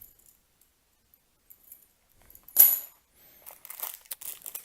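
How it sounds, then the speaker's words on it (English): Three Lane deadbolt keys jangle in a single brief metallic burst, close and fairly loud, followed by softer scattered clinks and rustling of packaging. "Okay, there's our 3 keys."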